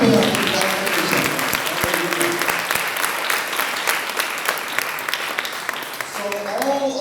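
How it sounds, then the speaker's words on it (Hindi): A conference audience at a divine healing gathering in Mirpurkhas breaks into sustained, dense applause that fills the whole stretch, with a voice speaking over it. "तालियां बजाएं।"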